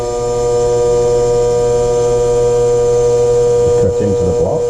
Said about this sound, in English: Another option is just to turn on your spindle